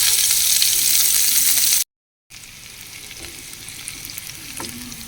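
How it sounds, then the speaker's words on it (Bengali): Chopped onions hiss and sizzle steadily in hot oil with a dried red chili, loud and close; the frying cuts out for a brief moment of silence, then resumes at a slightly lower level. "কুচি করে রাখা পেঁয়াজগুলো দিয়ে দিয়েছি"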